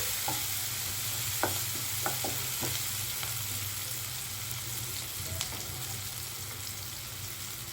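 Tomato and onion pieces fry in a pan for dal fry, giving a steady close sizzle with occasional sharp stirring scrapes and clicks throughout, no voices.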